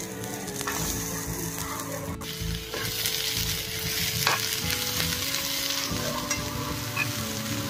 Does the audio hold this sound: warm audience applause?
no